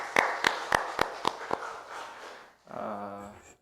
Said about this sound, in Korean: 하나님 앞에 감사의 박수를 한번 올리겠습니다